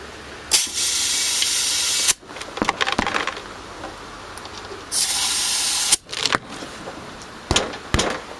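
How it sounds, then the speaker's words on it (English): Compressed air hisses in steady, loud bursts while inflating a flat tractor tire: three sustained blasts of about a second and a half each, separated by short clicks and handling noises as the chuck is repositioned. "now we're going to inflate this side"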